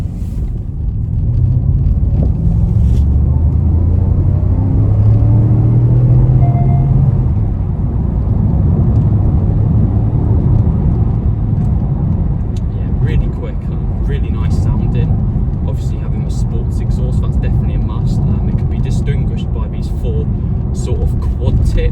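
A 2009 Porsche Panamera 4S with a 4.8-litre V8 and seven-speed dual-clutch gearbox, driven in sport mode, gives a deep, steady engine drone and rumble from inside the car that swells and eases, with someone talking over it.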